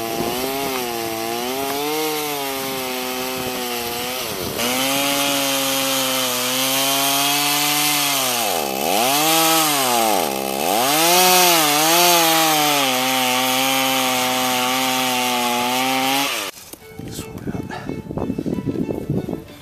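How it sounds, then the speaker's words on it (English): A chainsaw roars steadily up close, its engine pitch dipping and rising as it bites into a log being hollowed into a dugout canoe, ending with rough chopping and scraping. "I took the chainsaw and dug in as deep as I could go"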